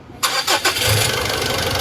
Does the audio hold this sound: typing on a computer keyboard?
no